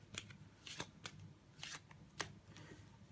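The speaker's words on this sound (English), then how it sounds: "Now we're going to use a Klondike shuffle." A deck of playing cards shuffled with a Klondike shuffle, giving soft, quiet card swishes and taps in an uneven run of about six short bursts, close by and with no talking.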